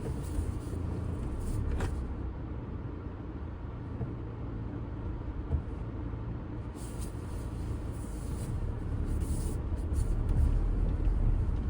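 A petrol Tata Altroz hatchback with a dual-clutch automatic drives over a rough, broken road, heard from inside as a continuous low rumble of engine and tyres with occasional bumps and rattles, growing slightly louder toward the end.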